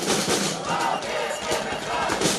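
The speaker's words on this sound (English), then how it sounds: "That's the sound of hundreds of protesters in Tel Aviv." Hundreds of protesters in Tel Aviv shout and chant continuously, loud and dense, with voices blending into a steady roar.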